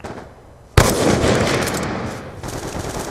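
A sniper rifle, a DRS50 loaded with armour-piercing rounds, fires a single loud sharp shot in a video game, followed by a sustained noisy ringing tail.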